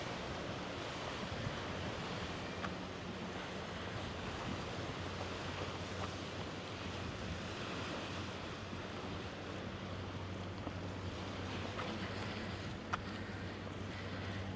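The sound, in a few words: sea breeze and waves at English Bay Beach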